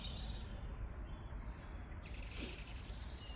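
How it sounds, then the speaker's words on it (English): Small birds call and sing faintly at dusk in a front garden in mid February, scattered chirps under a steady broadband hiss of distant background noise. "The birds are saying good night."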